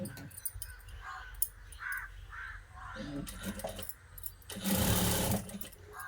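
A sewing machine stitches lace onto a blouse neckline, a short loud run of rapid stitching near the end after quieter room noise and some soft voice sounds.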